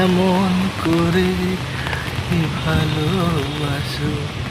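Spring rain falls in Kolkata, a steady patter of drops on surfaces with a person's voice talking over it close by.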